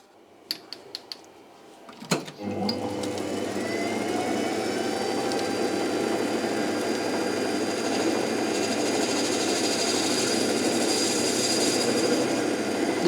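Steady metal-cutting drone from a precision lathe putting a small chamfer on a machined metal part, with a few clicks and a sharp clunk before a continuous, fairly loud machining hum that holds without talk.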